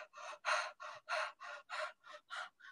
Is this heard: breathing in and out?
yes